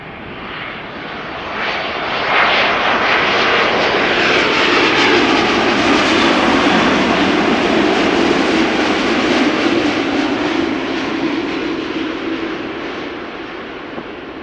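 A Boeing 787-8 Dreamliner, nine years old, lands at Amsterdam Schiphol. Its broad jet roar swells from a distance, holds steady and loud through the middle, then slowly fades, with no voices.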